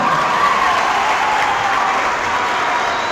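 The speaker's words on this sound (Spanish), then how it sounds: "Aplausos para la Virgen María." A crowd at a Catholic priest's gathering applauds in honour of the Virgin Mary, a loud, dense and continuous burst of clapping that holds steady from start to finish.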